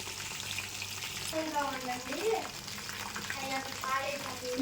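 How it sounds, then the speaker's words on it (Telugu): Mushroom pakoda frying in oil gives a soft steady sizzle, with voices talking faintly over it. "ఇది రెండో వాయి కూడా వేగిపోయిందండి"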